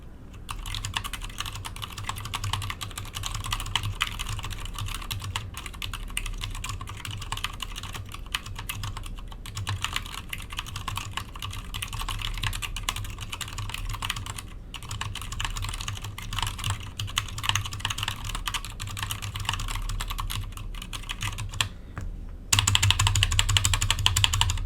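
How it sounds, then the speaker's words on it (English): Steady, rapid clacking of a custom mechanical keyboard being typed on, dense and continuous, close up, with a brief pause near the end before louder spacebar, shift and enter keystrokes. "you testing the extended keys for stability and rattle, the spacebar and the shift keys and the enter keys."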